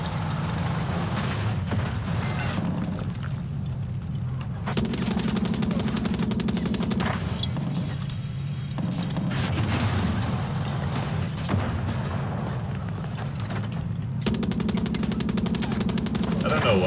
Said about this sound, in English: I don't know why it keeps firing the gun.